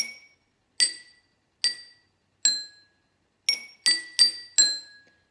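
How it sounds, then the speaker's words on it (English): Metal spoon tapping water-filled glasses, eight bright ringing clinks with short decays, spaced at first then coming quicker in a cluster near the end. "if I gently tap the glass, I don't want to break it, with a metal spoon, it makes a noise"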